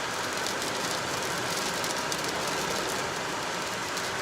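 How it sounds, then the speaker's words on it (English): Rain beats on a car windshield during a storm chase near a dryline, a steady, dense hiss of drops with faint engine and road rumble beneath, constant and without talk. "Here comes the rain."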